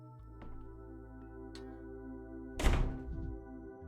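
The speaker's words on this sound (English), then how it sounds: "Bachelor Dankovsky is banging his head against the closed door." A single dull thunk of a character's head hitting a closed door in a video game, one clear close impact over a steady low hum and a few faint clicks.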